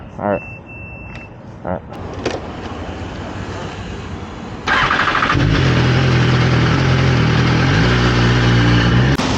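A 2010 BMW S1000RR sport bike with low mileage after years of storage starts up and settles into a loud, steady idle with a slight rev, preceded by clicks, handling noise and people talking nearby.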